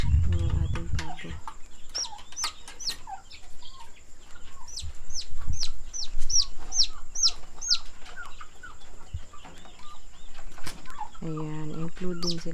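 Turkeys call with rapid, high gobbling chirps and clucks, several birds close by, with a short burst of voice at the end.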